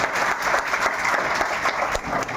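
A business-seminar audience breaks into brief, dense, steady applause, many hands clapping at once close by with no pause.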